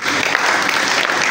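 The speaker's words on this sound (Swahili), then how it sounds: "Pigie Yesu makofi." A church congregation clapping together, a dense steady burst of applause filling a short moment, close and loud with no clear talk over it.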